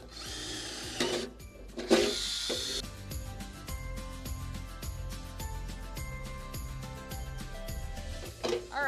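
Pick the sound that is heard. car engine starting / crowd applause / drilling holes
drilling holes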